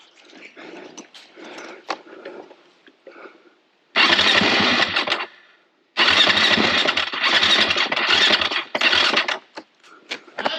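The starter on a Husqvarna 701 Enduro motorcycle that will not start grinds in loud, close bursts: one cranking run of about a second, then a longer churning run of several seconds, with quieter clicks and shuffling in between.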